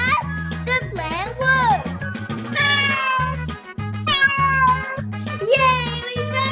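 A pet cat meows repeatedly, several clear rising and falling calls close by and fairly loud, over a low rhythmic music bed.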